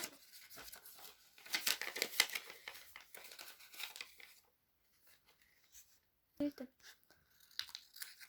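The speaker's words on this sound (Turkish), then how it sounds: "Şimdi bunun fazlalıklarını kesiyoruz makasımızla." Scissors cut and crinkle folded paper while trimming the excess from a handmade paper wallet, a run of faint, close snips and rustles, then quieter handling with one sharp tap.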